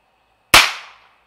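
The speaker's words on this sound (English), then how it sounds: "22 long rifle suppressor. Shot one." A single suppressed .22 Long Rifle gunshot, one sharp close crack with a short decaying tail, preceded by near silence.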